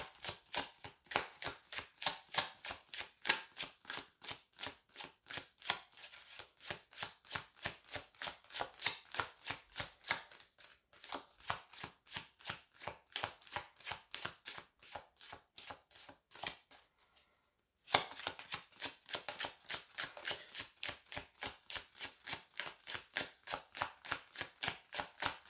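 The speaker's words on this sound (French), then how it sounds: "Je vais m'arrêter là pour retourner la carte de la racine." Rapid, evenly spaced flicks and riffles of playing cards during a divination card reading, continuing steadily with one brief pause near the end, close and moderately loud, with no talking.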